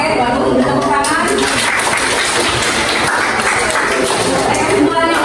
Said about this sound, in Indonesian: baru tepuk tangan